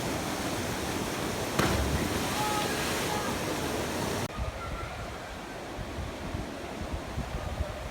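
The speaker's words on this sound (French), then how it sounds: "J'atteins finalement non sans mal mes premières cascades." Steady, dense rushing water of waterfalls roars close by among rocks in Morocco, a broadband wash that drops in level partway through but continues to the end.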